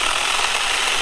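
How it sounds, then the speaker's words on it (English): TomyVic 6-inch battery mini chainsaw cutting through a big wet log, its chain giving a steady, close, high buzzing rasp without a break and no voices. "we're just letting the chainsaw do the work for us. Especially on a big log like that"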